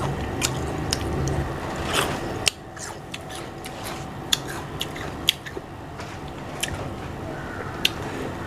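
Crisp bites and wet chewing of mixed fresh fruit dipped in chili salt, eaten outdoors at a street stall, with repeated sharp crunchy snaps at irregular intervals close to the microphone over a steady background hum.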